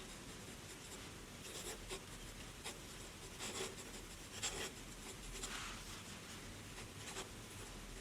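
Pilot IRO Utsushi fountain pen scratching across paper in short, irregular strokes, a soft close-up rasp with brief louder scrapes over a quiet background.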